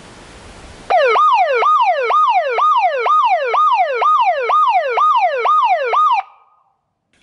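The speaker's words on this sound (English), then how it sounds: "So yelp would sound like this." A Moose MPI-11 siren driver producing a loud yelp tone, a rapid series of rising electronic whoops repeating about twice per second that start abruptly and cut off after about five seconds.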